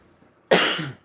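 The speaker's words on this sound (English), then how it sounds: "Sorry to cough off and on." One short, sharp cough close to the microphone, breaking a near silence.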